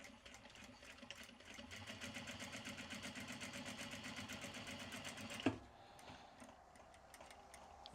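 A sewing machine stitching at a fast, even rhythm of rapid mechanical ticks, close and fairly quiet, stopping abruptly partway through with a clunk before a quieter stretch.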